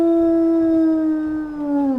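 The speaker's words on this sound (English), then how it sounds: "We'll listen to her howl" A wolf howl from the video game WolfQuest: one long, steady, fairly deep tone that slides down in pitch at the end, with no talking over it.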